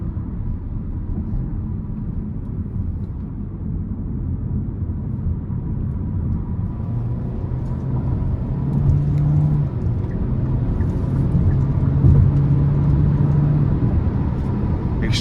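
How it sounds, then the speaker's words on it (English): 2022 Hyundai Kona SEL engine building steadily under throttle from inside the cabin, a continuous low drone and road rumble that grows slightly louder over the run. "when I give it a little bit of throttle, let's see how it accelerates"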